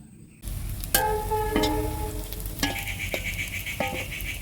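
Papad frying in hot oil, a steady crackling sizzle with a few sharp clinks of a utensil against the pan.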